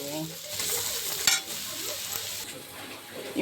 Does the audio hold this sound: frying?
yes